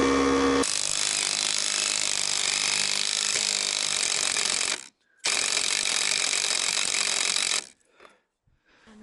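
Power tool driving a fastener through a sill plate, the socket slipping and stripping: a loud, harsh mechanical grinding rattle that runs for several seconds, stops briefly, then resumes before cutting off.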